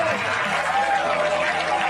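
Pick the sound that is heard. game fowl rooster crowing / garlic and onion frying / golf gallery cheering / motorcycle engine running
golf gallery cheering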